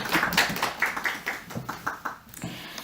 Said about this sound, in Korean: 자, 우리 박수로 주님께 영광을 올리겠습니다.